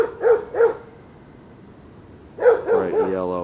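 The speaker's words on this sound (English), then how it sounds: "they have a dog to protect them" A dog at a homeless encampment gives two sharp barks, a pause, then another short burst of barking trailing into a whine-like tone, fairly close and loud over quiet outdoor background.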